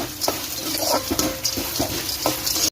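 Food frying in a pan with peanuts, chana dal and dried red chillies is stirred in repeated scraping strokes over a continuous sizzle, close and fairly loud.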